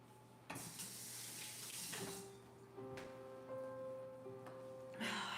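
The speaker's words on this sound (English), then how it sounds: "I'm gonna rinse off my fingers really quick." Fingers rinsed under a running kitchen tap, a soft, steady stream of water with faint splashing, heard fairly quietly alongside a low background hum.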